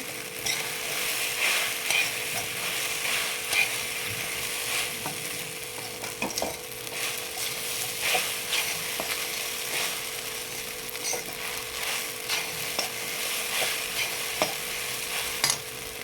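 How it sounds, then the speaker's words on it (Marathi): Sabudana mixture stirred in a pan of hot ghee, with a steady sizzle and frying hiss throughout and scattered scraping clicks of the stirring spoon, close and continuous with no talk. "दोन मिनिट ह्याला मस्त हलवत राहायचं आहे जेणेकरून ते तूप पूर्ण उकळीला लागलं गेलं पाहिजे"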